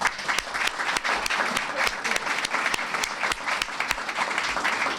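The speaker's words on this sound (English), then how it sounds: "I want to give her a round of applause." Audience applause at a Tampa Bay Wave gathering, a steady wash of many hands clapping close by, with sharp individual claps standing out through the full stretch.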